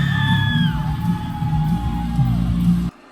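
A live concert crowd at a show whoops, yells and sings along loudly, with a sustained held vocal note and rising cheers that stop abruptly near the end.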